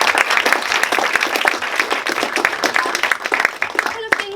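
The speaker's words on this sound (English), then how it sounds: "if everyone can give a massive round of applause, David." Loud, dense applause from a crowd, sustained clapping throughout with a few voices mixed in, fading slightly at the end.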